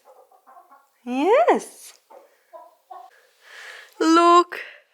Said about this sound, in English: Look, we've got the chickens here.